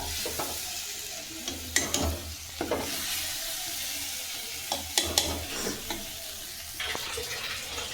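Vegetables going into a pot of UP-style khichdi, with a sizzle and frying hiss broken by several sharp clatters and stirring knocks, close by and with no talking.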